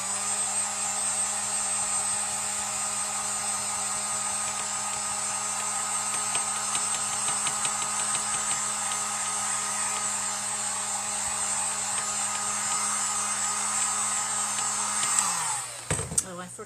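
A heat gun blows a continuous loud whirring hum over a resin lighthouse coat, droning steadily close by before cutting out near the end with a short clatter.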